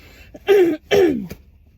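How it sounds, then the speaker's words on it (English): Two short, dry, harsh coughs in quick succession, close and loud, followed by quiet. "I've got such dry cough."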